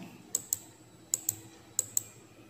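Computer mouse buttons click in three quick pairs, each a crisp, close double tap separated by short pauses in a quiet room.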